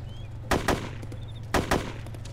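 Two pairs of sharp gunshots crack about a second apart in ARMA 2, loud and close over a low steady hum.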